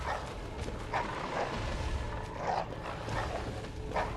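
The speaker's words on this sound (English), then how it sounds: "I can hear some dogs." Dogs bark in the video game Bloodborne, several muffled, mid-distance barks scattered through a dense, loud bed of game ambience and noise.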